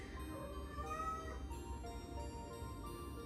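Rogue, a pet cat, lets out repeated loud screaming meows with rising and falling tones, close by over a steady low background hum.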